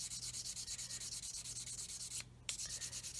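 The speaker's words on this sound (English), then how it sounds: "I'm letting the sanding stick do the work." Close, quiet rhythmic rubbing of a sanding stick on a plastic 1/35 scale 9K37M1 Buk model kit, quick even back-and-forth strokes with one brief pause near the end.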